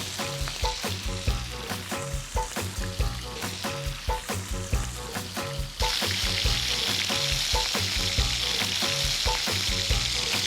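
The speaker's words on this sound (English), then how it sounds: "this is the searing sizzle" Food sears in a hot pan with a constant, crackling sizzle. Rhythmic stirring or scraping is heard at first, then the frying noise swells into a dense, continuous hiss.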